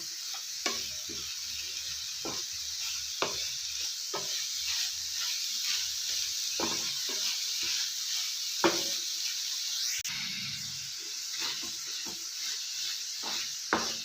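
A spoon stirs melting sugar and fresh grated coconut for barfi in a pan, giving repeated soft scraping strokes over a faint steady sizzle, close and without talk.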